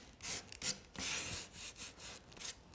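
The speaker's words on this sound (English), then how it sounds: "First, lightly sand the edges," Sandpaper lightly scuffing the edges of chalk-painted furniture, a series of close, soft rasping strokes of varying length, steady and unaccompanied by speech.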